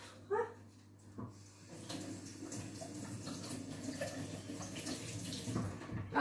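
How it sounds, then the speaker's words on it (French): A small spoon is rinsed under a running kitchen tap while making colored choux pastry, a steady moderate stream of water splashing for several seconds after a brief clink, with no talk. "Je vais rincer ma petite cuillère."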